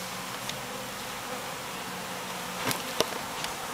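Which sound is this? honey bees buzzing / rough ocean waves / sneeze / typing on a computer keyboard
honey bees buzzing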